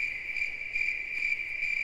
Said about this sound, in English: I can't hear you over these fucking crickets.